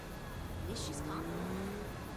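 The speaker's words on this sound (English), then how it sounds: "You shouldn't be driving that fast." A tuned car racing fast in the video game Saints Row III, a sustained engine roar with a rising whine and brief tire squeal, loud and close, with game voices over it.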